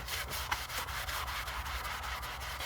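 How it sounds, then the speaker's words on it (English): A melamine sponge (magic eraser) scrubs a vinyl car seat in steady, soft rhythmic rubbing strokes, close and fairly quiet, with no talking. "I'm gonna have to get it with our melamine sponges"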